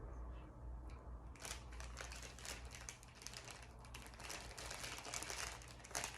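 Scissors snipping through a bundle of Trader Joe's seasonal flower stems for a bouquet, giving rapid crisp clicks and crinkly cuts over faint background noise, with no voice.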